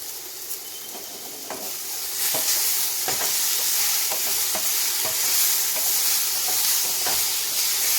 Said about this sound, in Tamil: நல்லா மசாலா சேர்கிற அளவுக்கு வதக்கி வச்சுக்கலாம்.